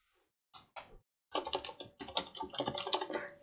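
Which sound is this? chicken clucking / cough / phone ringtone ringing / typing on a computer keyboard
typing on a computer keyboard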